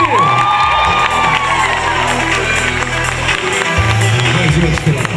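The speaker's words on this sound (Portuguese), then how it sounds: "Aplausos pro Valdeci" Audience at the APAE Fashion Dance fashion show cheers, whoops and claps loudly and without a break for a participant on the runway, a crowd roar filling the whole stretch while a voice carries over it.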